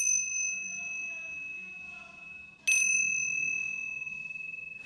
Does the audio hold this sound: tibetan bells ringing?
yes